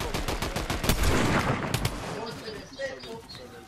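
Rapid gunfire in a Fortnite match, a dense burst of loud close shots in the first two seconds that thins into scattered quieter hits and game effects, with no talk.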